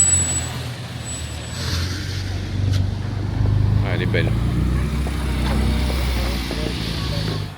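A Porsche 911 Turbo S Cabriolet with start-stop drives past on a Monaco street, its low engine rumble swelling amid surrounding traffic while someone speaks briefly in French.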